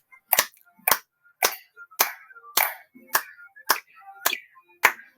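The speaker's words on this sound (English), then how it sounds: "All right, everybody clap." A group claps along in unison at a multicultural community event, nine sharp, evenly spaced claps about half a second apart, loud and close, with no talking.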